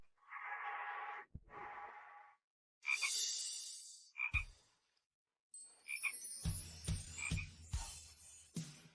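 Frog croaks come in loud, close bursts by a dried-out riverbed, some rasping and some sharp and clicky, separated by short silences, with a denser cluster of croaks near the end.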